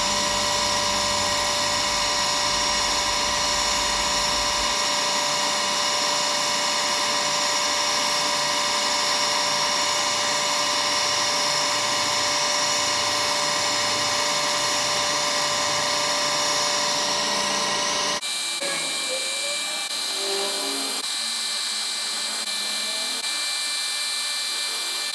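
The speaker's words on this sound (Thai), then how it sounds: "ผมจะเจาะเข้าไปในตำแหน่งที่ยังอยู่ในรูของปะเกน" A drill bores into a motorcycle cylinder head to move a water hole. The high, steady whine runs continuously for about eighteen seconds, then drops to a thinner, quieter tool tone.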